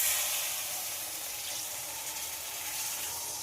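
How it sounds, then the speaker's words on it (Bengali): Water poured into a pan of sizzling, well-fried spice mixture for an egg and masoor dal curry gives a steady, close hiss and splash that runs unbroken for a few seconds. "আমি আমার পরিমাণ মতো জল দিয়ে দিচ্ছি"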